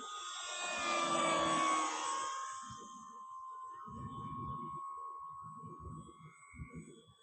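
An FMS Super Cub PA-18 RC model airplane, 1700mm wingspan, swells overhead with its whining motor and fades into the distance, followed by intermittent low rustling and bumps.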